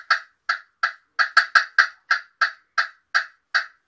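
A turkey hen call worked with a striker gives a run of about a dozen sharp, evenly spaced cutting and cackling yelps, bunching up briefly in the middle, close and clear with no talk. The human-made call imitates a hen turkey.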